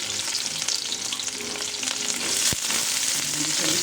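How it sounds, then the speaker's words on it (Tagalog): Ginger, garlic and onion sauté in hot oil for chicken pinakbet, a loud steady sizzle with a sharp clink of a utensil partway through. "sa mainit na mantika, so gigisa natin yung ating luya. Mix natin yung ating bawang. Lagyan natin yung ating sibuyas."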